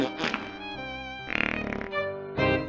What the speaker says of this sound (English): Just making fart noise isn't funny.